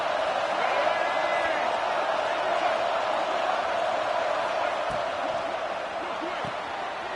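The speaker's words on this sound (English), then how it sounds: "The crowd getting behind this defense as they try to get a stop in the red zone." Stadium crowd at a football game roaring steadily behind the defense in the red zone, a dense, loud wash of cheering that holds level throughout with no voices standing out.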